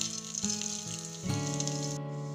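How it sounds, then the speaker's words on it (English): Cardamom pods, cloves, a cinnamon stick and cumin seeds sizzle in hot oil, a bright close fizz over a steady hum, with a couple of louder bursts as more spices go in. "Now once the oil is hot enough, I'm going to add 2 cardamoms, 3 cloves, 1 cinnamon stick, teaspoon of cumin seeds"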